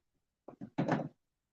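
Small chicken mesh doors set down on top of a brooder, two light taps then a louder rattling, clattering thunk of wire mesh settling into place, close and without talk.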